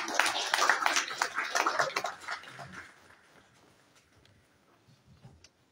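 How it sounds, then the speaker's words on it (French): A crowd at a conference panel applauds loudly for a couple of seconds, then the clapping thins out and fades to a few scattered claps. "Sous nos acclamations."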